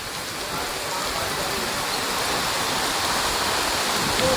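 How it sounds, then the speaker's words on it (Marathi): Heavy rain pouring in Rajapur during a thunderstorm, a loud broadband roar of water that is steady and close, swelling slightly toward the end. "राजापूरला मोठ्या प्रमाणात पाऊस लागतोय."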